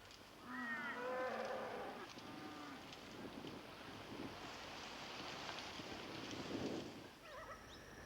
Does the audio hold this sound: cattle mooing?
yes